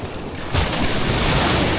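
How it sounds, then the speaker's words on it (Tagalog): Strong sea waves surge and slap around a boat off Mindanao, a loud steady rush of water and wind that swells up after a brief quieter moment, with no voices. "Pusog naman ng alon"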